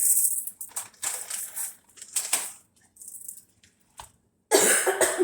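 A series of harsh, close coughs in bursts, with short pauses between them and a final loud cough after a brief silence.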